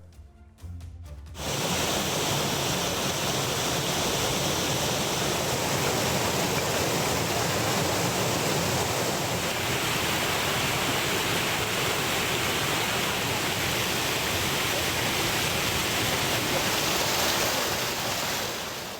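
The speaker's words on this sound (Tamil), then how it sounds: "ஏரி கண்மாய் நிரம்பி மறுகால் பாய்ந்து வருகிறது அருவி போல் காட்சியளிக்கும் ஏரியில் பொதுமக்கள் குளித்து குதூகலித்து வருகின்றனர்" Heavy rain has filled a lake until it overflows like a waterfall, and the water pours in a loud, continuous rushing roar that holds steady throughout, with no voices.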